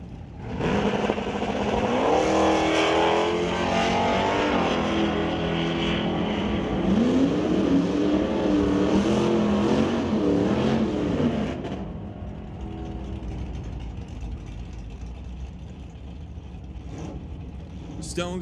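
At a drag race, a 1973 Scamp runs against a Dodge Dart. Engines roar loud and close, climbing in pitch as the cars accelerate for about twelve seconds, then drop away to a quieter rumble while an announcer talks throughout.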